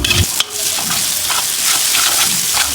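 Tomato paste for beef caldereta sizzles in a hot pan while being stirred, with a bright continuous frying hiss, a sharp scrape of the utensil near the start and a few soft stirring strokes.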